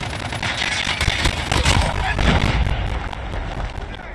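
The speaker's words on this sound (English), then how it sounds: "Grenade out." A grenade explodes in Call of Duty Mobile amid constant gunfire, a dense, loud rumble of blasts and shots with no pause.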